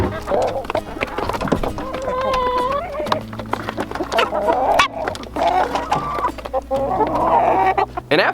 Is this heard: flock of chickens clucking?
yes